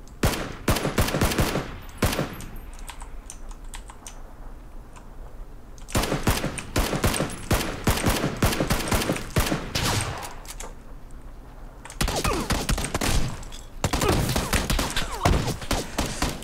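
Rapid video game gunfire fills the stretch in long bursts of automatic shots broken by short pauses, loud and close, with no voices over it.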